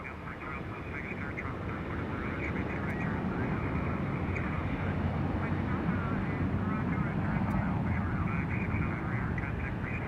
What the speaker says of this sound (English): This is gonna be a Boeing 737, and it's on the move.